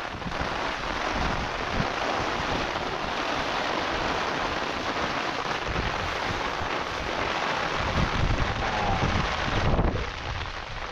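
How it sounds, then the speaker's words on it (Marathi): Strong wind roars during monsoon rain on an open hilltop plateau, a continuous, dense rush of noise buffeting the microphone with no voices, cutting off abruptly just before the end. "खूप वारा सुटला आहे"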